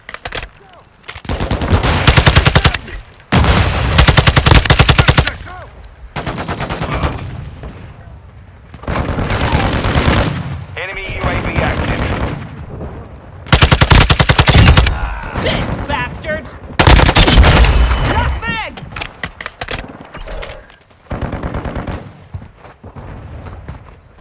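Loud bursts of automatic gunfire in Call of Duty Mobile, with repeated long machine-gun volleys, booms and shorter shots separated by brief pauses, under intermittent game voice callouts.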